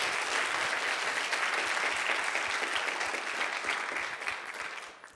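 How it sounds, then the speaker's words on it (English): Audience applause fills the hall after a talk at a CreativeMornings New York event: dense, steady clapping with no voices, holding strong before thinning out over the final second. "that is really worth a round of applause"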